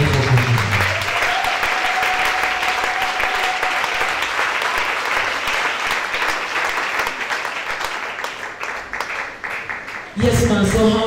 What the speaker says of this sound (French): Acclamez très fort.